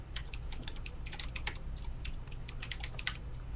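Rapid, furious typing on a computer keyboard, a dense flurry of close clicky keystrokes over a low steady hum, with no talk.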